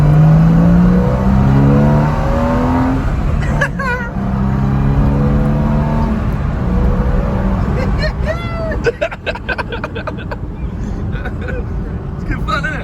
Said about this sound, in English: Driving the race car in his business shoes.